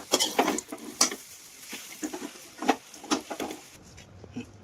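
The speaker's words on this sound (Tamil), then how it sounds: "ஒரு வானல்ல நெய்யை ஊற்றி அரைச்சு வச்ச பேரிச்சம்பழத்தை எல்லாத்தையும் அதில் போட்டு நல்லா வதக்கிக்கோங்க" Ground dates being sautéed in ghee in a pan, heard as irregular close scraping and stirring scuffs with soft patter between them, fading toward the end.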